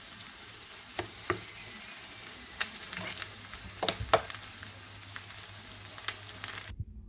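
Aloo paratha cooking in oil on a griddle, a soft steady sizzle broken by scattered clicks and taps as the flatbread is turned, then a sudden cut to silence near the end; no talking.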